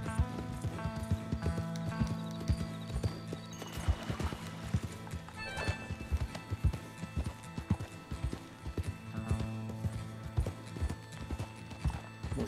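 Horse hooves clip-clop steadily at a riding pace in Red Dead Redemption 2, a continuous rhythmic patter with occasional whinnies, heard alone without talk.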